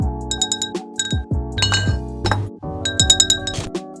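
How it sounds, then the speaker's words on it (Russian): Souvenir bell from Riga sampled as percussion, producing bright, close metallic-glassy chimes and clinks that ring in a quick irregular series of about a dozen strikes, with no voices. "сувенирный колокольчик"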